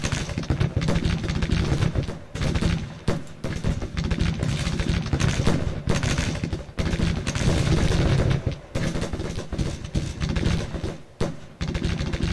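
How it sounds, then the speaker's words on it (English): Artillery bombards an area in the Civil War strategy game Grand Tactician, a dense run of booming cannon shots and rattling volleys rolling one after another at mid distance, with no talking over it. "I am going to tell him to bombard this area."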